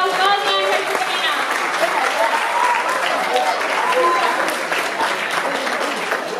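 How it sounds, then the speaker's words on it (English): An audience at the VIVA film festival 2018 awards ceremony applauds steadily for several seconds, with a warm, continuous wash of clapping and some voices or music mixed in beneath it. "Please, one big applause for all festival centers from Bosnia and Herzegovina."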